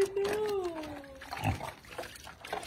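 Pigs grunt and snort nearby at a farm while a dog watches, with short low grunts mixed among a voice speaking over them.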